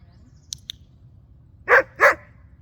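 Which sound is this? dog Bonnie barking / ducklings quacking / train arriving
dog Bonnie barking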